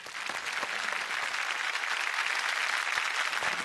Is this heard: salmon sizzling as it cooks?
no